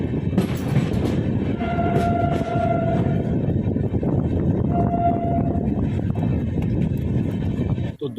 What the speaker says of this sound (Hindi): अब अपनी ट्रेन अपने जयपुर से 12वें स्टॉपेज गारोठ पर आ गई है और अब डिपार्चर करने के लिए तैयार है।